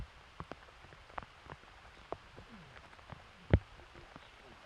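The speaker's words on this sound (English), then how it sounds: "This is where the rain really started kind of picking up" Rain falls on a wooded disc golf course in Pennsylvania, scattered drops ticking and pattering on leaves and surfaces close by over a quiet background, with one louder splat.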